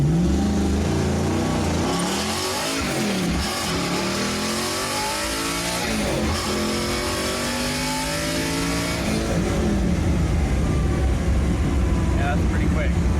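An all-wheel-drive Audi race car at full boost tears through its gears, a loud, rising engine roar broken by quick shift dips, heard from close inside the car.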